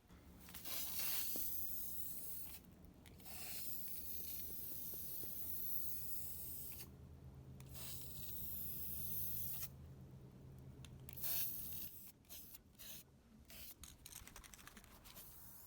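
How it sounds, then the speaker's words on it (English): Satin nickel spray paint hisses out of an aerosol can onto old light fixtures outdoors, in long steady bursts broken by short pauses, then quicker intermittent spurts near the end, fairly faint. "let's take this outside and begin spraying."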